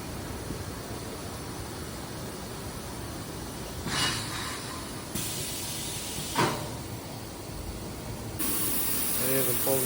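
A Gweike 6 kW fiber laser cutting machine with a 6000 by 2000 mm exchange table cuts parts, giving a steady airy hiss with brief louder bursts and shifts in tone, heard at moderate distance.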